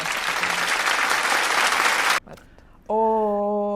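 Burst of applause sound effect, dense steady clapping for about two seconds before cutting off abruptly, followed by a short electronic tone.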